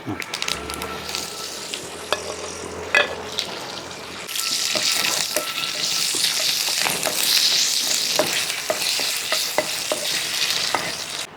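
Hot oil crackles and sizzles as mustard seeds pop in sharp bursts with dried red chillies and curry leaves, the sizzle swelling louder after a few seconds and continuing steadily.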